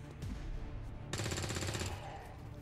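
Soldiers firing guns in the video game XCOM 2, a dense rattling burst of rapid automatic fire lasting under a second over rumbling game noise, loud and close with no talking.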